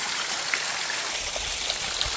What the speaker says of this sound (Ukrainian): вода падає, падає